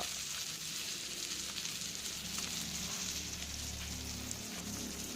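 Fish fries in hot oil in a pan, a continuous, close crackling sizzle with fine popping that stays steady throughout, with no voices.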